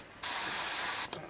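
Airbrush spraying Vallejo Model Color purple paint at 20 psi from a compressor: a steady, loud, close hiss lasting about a second, then a brief second spurt right after.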